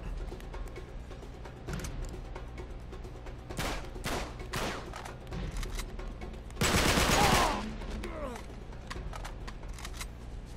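Rapid automatic gunfire from the video game Uncharted 3: Drake's Deception rings out in repeated bursts, with one dense, loud volley near the middle over steady game background sound.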